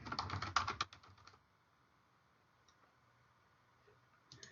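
Quick keystrokes on a computer keyboard, close and clear for about a second, then near silence with a few faint taps at the end.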